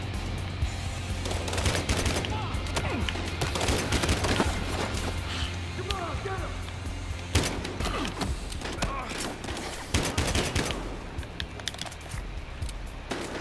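Rapid bursts and single shots of gunfire in the video game Battlefield Hardline, loud and close, repeating irregularly through the whole stretch with brief quieter gaps.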